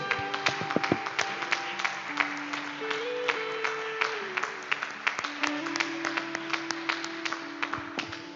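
Church congregation clapping during an evening worship service, with sharp claps scattered in an uneven rhythm over sustained organ or keyboard tones and a murmuring crowd, fairly close and moderately loud throughout.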